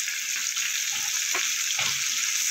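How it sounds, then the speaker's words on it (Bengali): Pumpkin frying with turmeric in a pan, a loud, steady hiss of sizzling oil throughout with a few soft scrapes and stirs underneath. "ভালো করে ভাজতে হবে এটা কুমড়োটাকে"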